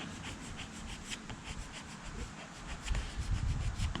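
A vinyl decal is rubbed onto a 2021 Ford Bronco windshield, producing a soft, steady scraping rub in repeated strokes that grows slightly heavier toward the end, close and quiet, with no talking.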